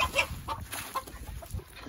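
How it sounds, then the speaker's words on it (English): Farm chickens clucking in a busy, overlapping cluster of short calls, fairly close and loud, with a rooster among the flock. "Come on, chickens, I'm coming."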